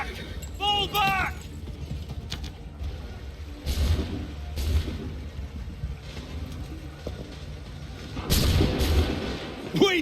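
Heavy cannon booms and gunshots ring out in an Assassin's Creed III battle, with loud broadband blasts around the middle and a cluster near the end, rumbling beneath shouted voices and background combat noise.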